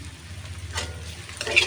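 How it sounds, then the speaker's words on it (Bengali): Chopped garlic frying softly in hot oil in a pan with onions, a quiet steady sizzle that grows louder with a couple of brief crackling bursts near the end. "রসুনটা এবার আবার একটু হালকা করে ভাজবো"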